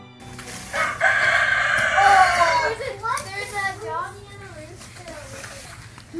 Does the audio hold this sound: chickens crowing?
yes